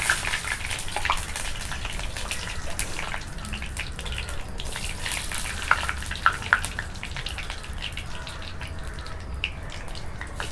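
Steady crackling sizzle of spices and curry leaves popping in hot oil on a clay stove outdoors, with sharp little pops scattered throughout, close and continuous, no voices.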